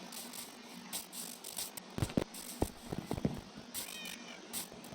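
Cats meowing in Minecraft, several short, faint in-game meows scattered through a quiet ambient background, with a cluster of clicky sounds in the middle.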